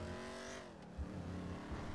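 A gray Charger in a role-play driving video game pulls away, its engine note rising and revving briefly at low, faint volume, with a short gap and thumps before the engine resumes.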